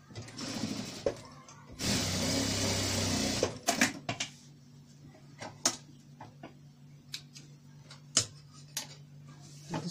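A sewing machine runs in a burst of rapid stitching while a child's Mickey Mouse pillowcase is sewn, followed by scattered mechanical clicks and taps of fabric handling nearby.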